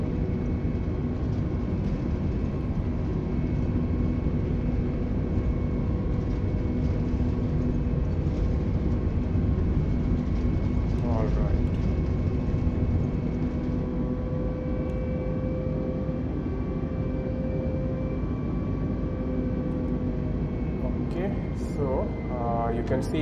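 Airbus A320 engines spooling at takeoff power in Flight Simulator 2020, a steady loud roar with a droning hum throughout, a few faint chirps near the middle and end.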